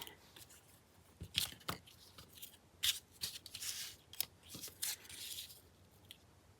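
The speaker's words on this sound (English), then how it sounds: "The real fussy cutting scissors." Small scissors snip paper in a series of quick, crisp cuts with short pauses between, close and fairly quiet against a soft background.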